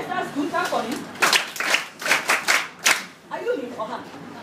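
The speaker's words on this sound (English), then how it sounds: "Clap for him." A class of students claps together for a classmate at a moral talk, the sharp irregular claps spread over a few seconds and briefly blending with voices of children and an adult teacher talking nearby.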